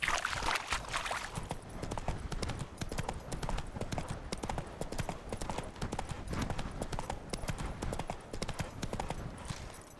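Roach, a horse in The Witcher 3: Wild Hunt, gallops with fast, continuous clip-clop hoofbeats, close and steady throughout.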